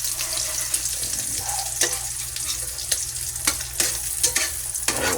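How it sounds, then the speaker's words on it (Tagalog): Scrambled eggs hiss in a hot pan while a spatula knocks and scrapes at them, giving a few sharp taps over an even, close sizzle. "Magluluto na yung scramble egg natin. Baliktad na natin siya."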